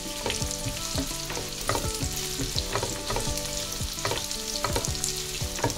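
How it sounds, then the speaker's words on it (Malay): Onions sauté in hot oil in a pan, a steady close sizzle with repeated scraping stirs of a utensil at a regular rhythm, no voices. "Tumiskan dia sampai keluarkan aroma yang wangi tu kan. So, tumis bawang kita ni."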